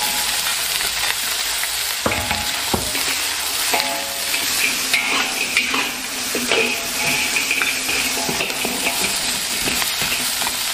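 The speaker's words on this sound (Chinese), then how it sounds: "先把排骨炒一下" Pork ribs stir-fry in a pan with oil and ginger, a steady close sizzle broken by repeated scraping stirs and light clanks of the utensil against the pan, with no voices.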